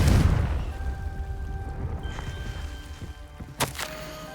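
A Confringo fire spell blasts in the game Hogwarts Legacy: a heavy booming explosion at the start decays into a rumbling, crackling tail with faint debris clatter, ending in a sharp whoosh-like crack near the end.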